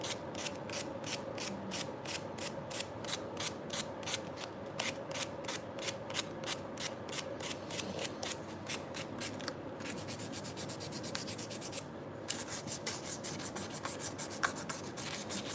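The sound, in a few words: sanding carbon fiber knife handle by hand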